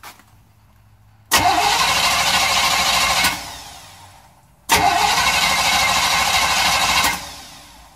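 A 6.5 engine cranking on a cold start, heard as two loud, steady bursts of starter whirring, each about two seconds long, separated by a short gap and each ending in a fading spin-down, with no talking.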